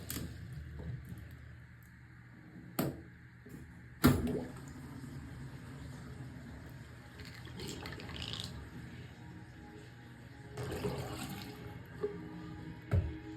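Water gurgles and rushes down a freshly unclogged bathroom sink drain, a steady low flow with a few louder knocks and splashes, fairly close and quiet, with no one talking.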